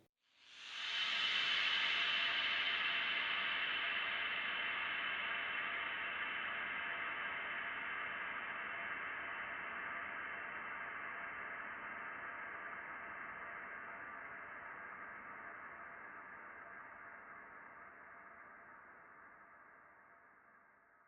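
A washy, sustained frozen reverb wash swells in quickly, then slowly fades out over about twenty seconds as the wet level is automated down, growing duller and quieter.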